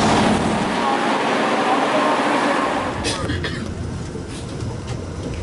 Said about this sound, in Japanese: 今電車の中